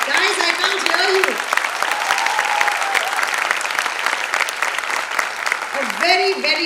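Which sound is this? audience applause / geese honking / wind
audience applause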